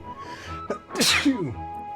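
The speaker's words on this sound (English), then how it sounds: "I feel like I need to sneeze." A single close sneeze, a brief breathy intake followed by a loud explosive burst, then a trailing voiced sigh.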